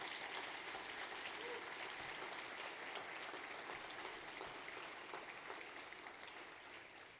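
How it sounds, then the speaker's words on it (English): Audience at a small business awards ceremony applauds the finalists and award winners with steady, dense clapping that fills the room and gradually tapers toward the end. "give me one last round of applause for all of the finalists and all of the award winners today"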